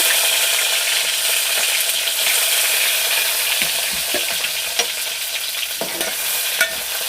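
Green chillies, tomato and onion pieces fry in a pan, a loud, dense sizzle up close with scattered clinks and scrapes of a spoon stirring against the metal.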